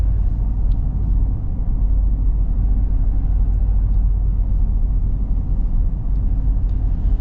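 2025 Ford F-350 Super Duty pickup cruising at light throttle, a low steady engine and road rumble heard from inside the cab, continuous and even throughout.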